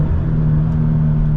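Manual Toyota GT86 engine revving during a heel-toe downshift, a steady loud mid-range drone with strong harmonic hum from inside the car, no talk.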